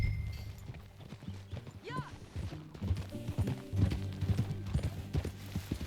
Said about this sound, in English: Aquí está mi caballito.